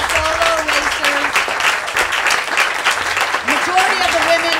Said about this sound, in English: what I want from all of you is a big round of applause for the solo racers